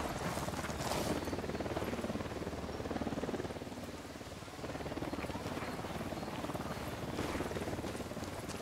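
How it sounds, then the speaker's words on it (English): A helicopter approaches in the Ghost Recon Wildlands video game as a steady, rumbling rotor drone that persists throughout at moderate volume, with faint rhythmic chopping and no clear talk. "We got a chopper coming in."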